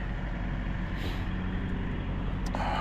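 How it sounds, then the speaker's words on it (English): A refrigeration truck's air-conditioning unit runs as a steady low mechanical drone, heard at moderate distance outdoors along a roadside walk in Maine, with a brief hiss near the end. "They fired up the air conditioner for the truck, sounded like."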